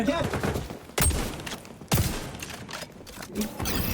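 Shotgun fire in the shooter XDefiant, two heavy booming blasts about a second apart with a lingering tail, loud and close, with scattered game noise and brief voice around them.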